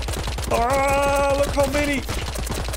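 Rapid Tommy gun fire in the cartoonish video game Big Fat Battle, a continuous, evenly spaced rattle of shots running throughout, loud and close, with a voice exclaiming over it and a tonal game sound in the middle.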